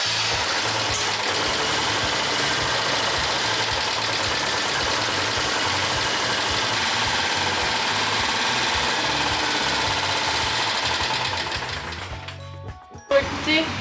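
A Citroën 2CV engine idles after starting, a steady, close, rhythmic chugging that runs evenly for about eleven seconds before fading and stopping, followed by a few faint knocks.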